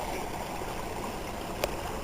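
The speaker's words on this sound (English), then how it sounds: "Filling up some water from a spring here. Comes right out of the cliff face" Spring water pours out of a cliff face in Colorado in a steady, close rushing trickle, continuous and even, with a faint splash midway.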